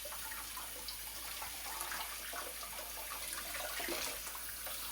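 Running water from a tap rinsing a cast iron skillet while grime is scrubbed, a steady close rushing stream with faint splashes and scrapes, continuous and alone.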